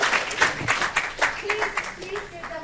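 Audience at a business strategy and data science case competition clapping, a moderate burst of scattered applause with irregular hand claps, close by, while people talk over it.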